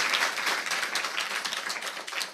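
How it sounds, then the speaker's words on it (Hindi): An audience at a Hindi church sermon claps together in a dense, continuous round of applause, close and fairly loud, with no voices over it. "पहले से ही तालियां बजा दें"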